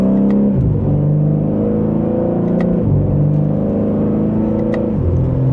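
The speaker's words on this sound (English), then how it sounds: "it's got a good exhaust note to it" A 2026 BMW M3 Competition twin-turbo engine revs loudly and close by in Sport Plus mode, climbing in pitch and dropping briefly at each gear change as it accelerates.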